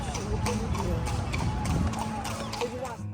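Horse carriage hooves clip-clop steadily on a Kolkata road while people talk over the top, with busy street noise behind.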